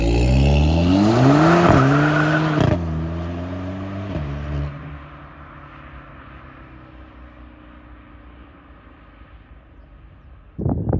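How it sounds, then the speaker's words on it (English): Loud VW Polo GTI engine revving hard through a launch-control start, rising harmonics climbing and dropping with quick gear changes, then settling to a quieter steady drone before a brief burst near the end. "I'll also do like a launch control to show you how the car sounds and how the car sounds more aggressive."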